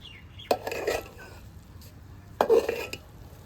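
A spatula stirs egg pulao with a little ghee in a pan, giving two short scraping, rustling passes of metal on rice about two seconds apart, close by and fairly quiet.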